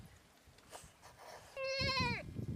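A single clear goat bleat, wavering and nasal, rises over quiet background rustling and low murmur.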